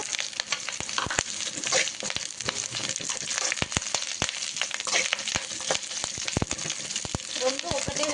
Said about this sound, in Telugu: ఇప్పుడు దీంట్లో 1 కప్పు కరివేపాకు, ఇది కూడా మంచిగా ఫ్రై చేసుకోవాలండి